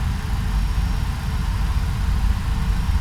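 Twin jet engines of a Boeing 767-300 in the X-Plane 11 flight simulator, spooled to about 60% N1 before takeoff, give a steady low rumbling drone with no talk over it.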